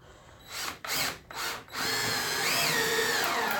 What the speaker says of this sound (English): So as he's screwing this in,